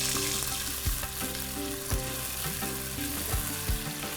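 Potatoes fry in a pan for aloo matar tehri, giving a dense, loud, continuous sizzle with a few low thumps at irregular intervals, heard close and with no one speaking.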